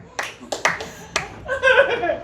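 A few scattered hand claps pop from a comedy audience at a stand-up set, sparse and uneven rather than full applause, followed by a person speaking and faint chuckling.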